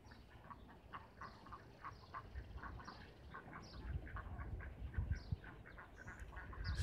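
A flock of ducks heading home for the night quacks repeatedly at a moderate distance, with soft overlapping calls over a low outdoor rumble that builds slightly toward the end.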